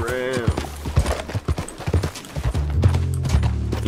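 In Red Dead Redemption 2, a horse's hooves clip-clop at a quick, even pace, opening with a short whinny, while a voice talks over the galloping.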